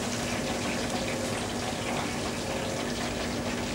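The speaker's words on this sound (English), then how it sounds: "it sounds like there's water gone into the fryer, and it is water going into the fryer, but that's from the fish proteins" Fish deep frying in hot oil, moisture from the fish proteins hitting the fryer and sizzling in a dense, steady hiss that stays loud and constant throughout, with no talk.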